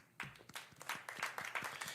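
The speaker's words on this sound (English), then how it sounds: "Give you a round of applause." Faint applause from a small gathering at a music event, a brief patter of rhythmic hand claps, fairly quiet and alone.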